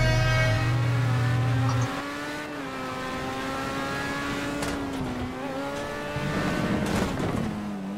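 Open-wheel race car engine in GTA Online, a steady, smooth whine that rises and falls in pitch as it accelerates, with a brief low rumble near the start and short sharp bursts toward the end.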